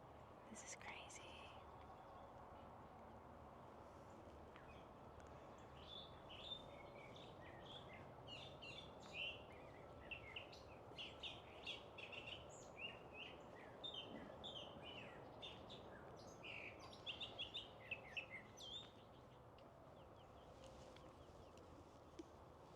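Birds sing and chirp in the woods on a morning hike, with short repeated calls scattered throughout over a faint steady background hush and quiet whispering.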